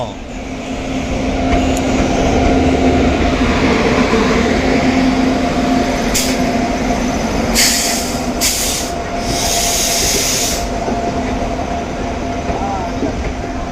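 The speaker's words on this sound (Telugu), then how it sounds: "రేపల్ల రైలుని చంద్రవరం స్టేషన్లో చూస్తున్నాం." The Repalle–Secunderabad passenger train rolls into Chandravaram railway station with a loud, close, steady rumble of wheels and carriages, steady tonal hum and intermittent brake hiss bursts, with voices faintly underneath.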